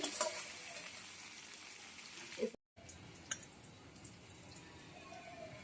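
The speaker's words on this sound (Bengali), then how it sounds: "মশলা দিয়ে পটলের বীজটা কষাতে কষাতে দেখো কাঁচা গন্ধটা" Pointed gourd seeds fry with spices in a pan, a faint, steady sizzle with light stirring scrapes and a brief dropout partway through.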